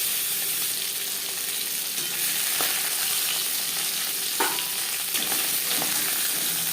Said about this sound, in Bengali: একটা সাইড ভাজা হয়ে গেলে অপর সাইডটা